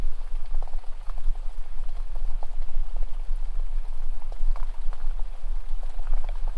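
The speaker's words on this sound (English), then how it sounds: "listening to the waves lapping on the shore" Waves lap on a seashore beside a campfire at night, a steady bubbling, splashing wash of water with a constant low rumble underneath, close and continuous, no voices.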